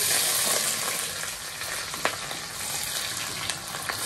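Onions sizzle and crackle steadily in hot oil in a kazan while plov is being cooked. A few sharper pops and stirring scrapes rise briefly above the close, continuous frying hiss.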